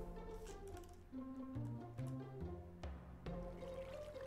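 Water placed in Minecraft gives a soft, continuous flowing wash with faint musical tones underneath, low in level and steady throughout, with no talk over it.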